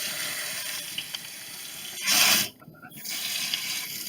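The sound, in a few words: water splashing while filling a fish tank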